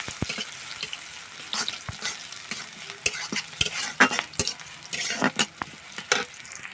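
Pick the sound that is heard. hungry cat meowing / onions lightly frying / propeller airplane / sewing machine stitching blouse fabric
onions lightly frying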